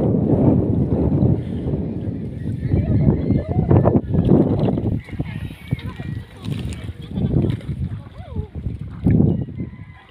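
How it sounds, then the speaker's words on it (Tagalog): Amihan wind blows at the sea, buffeting the microphone with loud, gusty rumbles that rise and fall while people talk over it. "Amihan yung hangin yun eh."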